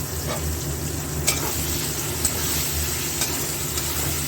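Tomatoes sizzle with onion and marinated chicken in a hot pan, a steady loud frying hiss broken by a few sharp clinks of a stirring spoon.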